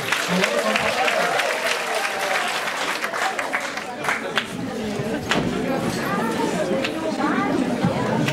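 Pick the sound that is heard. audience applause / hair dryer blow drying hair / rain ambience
audience applause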